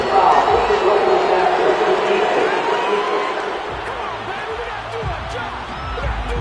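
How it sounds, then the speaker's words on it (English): A football stadium crowd reacts to a penalty call at a Rams game, a broad, loud roar of booing and shouting that slowly subsides, with a commentator talking over it. "this crowd does not like that call"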